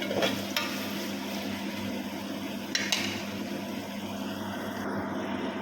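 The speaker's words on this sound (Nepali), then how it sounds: "फर्स्ट मैले प्याजलाई चाहिँ मजाले फ्राई गर्न गइरहेको छु।" Onions frying in a pan in an accommodation kitchen, a steady sizzle lasting throughout with a few faint clinks of a utensil against the pan.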